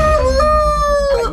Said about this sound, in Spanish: tenía todas sus gallinas reunidas